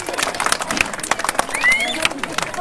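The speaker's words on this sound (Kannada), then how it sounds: "ಮಕ್ಕಳೆಲ್ಲ ಜೋರಾಗಿ ಚಪ್ಪಾಳೆ ತಟ್ಟಬೇಕು" Children applauding loudly at an annual celebration event in Manvi, with a rapid, uneven patter of claps over crowd chatter and voices.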